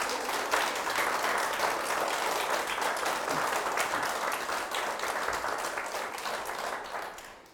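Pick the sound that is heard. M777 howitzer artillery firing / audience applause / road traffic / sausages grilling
audience applause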